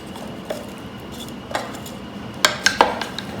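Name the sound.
vegetables being tossed with beef in a crock-pot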